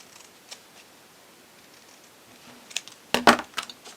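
Scissors cutting out a paper box template, a few faint snips early on and then a cluster of sharper, louder cuts and paper rustles near the end, close up in a quiet room.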